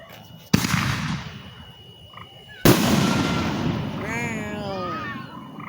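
Fireworks going off outdoors: two sharp loud bangs followed by crackling, hissing bursts, with whistling tones rising and falling near the end and people talking in the background.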